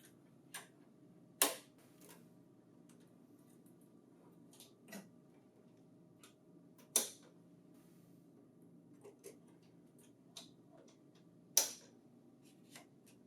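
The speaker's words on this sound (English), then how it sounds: "Insert the new rollers." New tray rollers are inserted into a printer in a quiet room, with sparse, distinct plastic clicks and snaps spaced several seconds apart.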